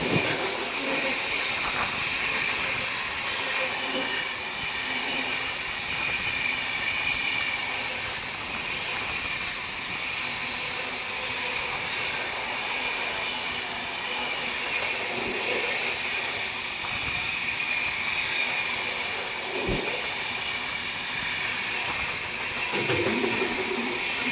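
The August Kranti Rajdhani Express, hauled by a WAP7 electric locomotive, rolls in with a steady rumbling hiss of coaches on rails, moderately loud and continuous, with a few low thumps and no talk.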